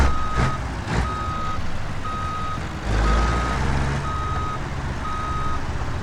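A truck backing a trailer in reverse gear sounds a steady series of evenly spaced electronic reversing beeps over a low idling engine rumble, with a couple of knocks and a deeper engine surge midway, no talk.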